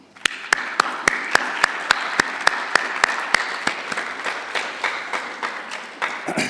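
Applause at a mathematics olympiad event, a steady wash of clapping from the audience punctuated by sharp, evenly spaced loud claps close by, running throughout without speech.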